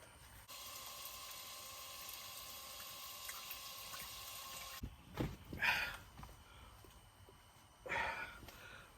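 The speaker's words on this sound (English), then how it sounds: "I'm about to take a shower" Water runs steadily from a shower in a camper van, a continuous hiss that cuts off abruptly midway, followed by a few brief splashes and drips at close range.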